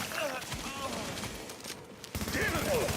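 Sustained gunfire in The Division video game while lining up headshots: dense, rattling bursts of shots running throughout at moderate distance, with a voice talking over them.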